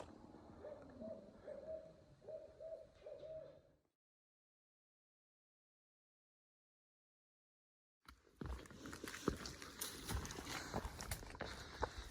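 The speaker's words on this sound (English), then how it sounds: "The owl is hooting." An owl hoots along the Appalachian Trail, a few soft, low repeated calls at moderate distance in quiet woods, followed after a pause by nearby rustling and footsteps.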